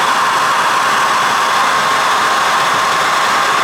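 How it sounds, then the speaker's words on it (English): A steady, loud blowing whoosh of a hair dryer running continuously at close range, with no pauses and no voices. "now that the hair dryer is hot"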